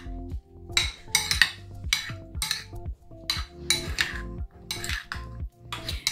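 Barbecue sauce and chilli garlic sauce being mixed in a bowl for burger sauce, a spoon clinking and scraping against the bowl in quick repeated bursts, close, with no voices.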